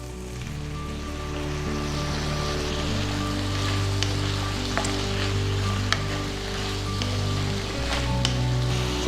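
Chopped medium-size tomatoes sizzle in hot oil in a pan for pea kurma, a continuous close frying hiss with occasional stirring crackles and no talk.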